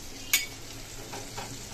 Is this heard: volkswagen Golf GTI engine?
no